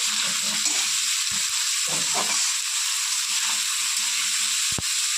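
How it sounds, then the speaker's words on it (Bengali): Vegetables lightly frying in a pan for a Bengali kajoli fish curry, giving a continuous hissing sizzle with a few stirring scrapes and knocks, close and steady with no voices. "সবজিটা আমি একটু হালকা করে ভেজে নেব সবজিগুলো"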